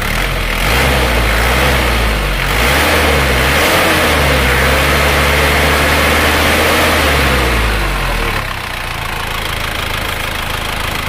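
A rebuilt diesel Isuzu Panther engine with new liners and rings runs close by, revving up and down in several swells before dropping back to a steady idle.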